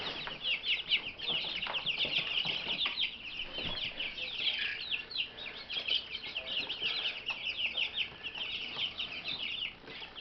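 Three-week-old black copper chicks with feathered legs fill the space with dense, continuous high peeping and soft clucking, a busy flock chattering nearby without pause.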